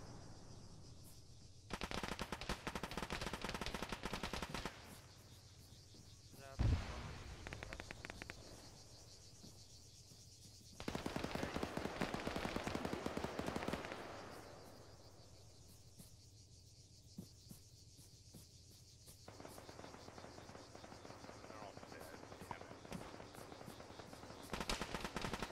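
Automatic gunfire in the ShackTac Arma video game, long dense bursts of rapid shots separated by quieter gaps, the loud volleys repeating several times with a single heavy thump partway through and no voices.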